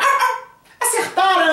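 A voice imitates a small dog barking, giving a few short, yappy, bark-like cries close to the microphone with a brief pause between them.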